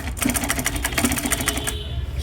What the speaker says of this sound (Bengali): সেলাই হচ্ছে, দেখতে পাচ্ছেন আপনারা।